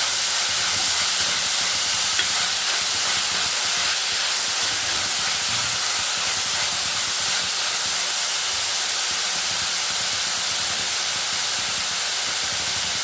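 Chopped shallots sauté in a hot pan with a loud, steady sizzle and hiss that stays constant throughout, with no voices heard.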